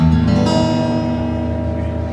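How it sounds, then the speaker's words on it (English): A single strummed steel-string acoustic guitar chord, sampled from a 1972 vintage Gibson on a Yamaha Tyros 5 keyboard, rings out brightly, then sustains and slowly decays. "We've got a brand new steel acoustic, which is great for singer-songwriting."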